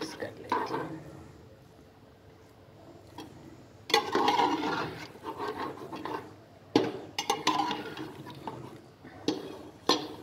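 Egg and potato curry with coriander is stirred in a pan, giving repeated scraping and rubbing strokes in irregular bursts, close and moderately loud, with some quiet speech between strokes.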